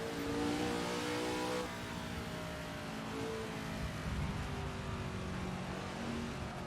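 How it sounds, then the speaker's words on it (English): A fast vintage racing car accelerating on a long, high-speed track through the German countryside, its engine a loud, sustained whine that climbs in pitch, drops briefly at a gear change, then rises again, close and alone. "And these cars are just so fast."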